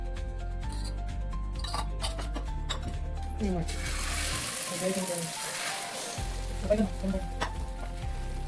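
An omelette frying in a pan at home, a steady close sizzle with a few utensil clicks and a short lull partway through.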